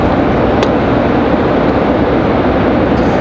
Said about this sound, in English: our last arrival, American 1904 from Charlotte. That'll be a 737-800.